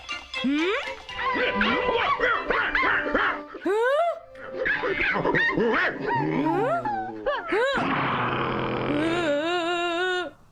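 A cartoon dog barks, yips and whimpers in short excited bursts, mixed in with animated characters talking over it.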